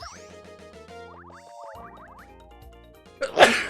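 A single sharp sneeze bursts out near the end, loud and close, after a stretch of electronic Paper Mario game music and tones.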